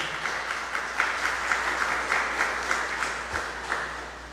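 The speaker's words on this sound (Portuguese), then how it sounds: "uma calorosa salva de palmas a ele que nos assiste do céu" A church congregation at a seventh-day memorial mass gives soft, even applause, a quiet, steady patter of many hands for a few seconds with no talking over it.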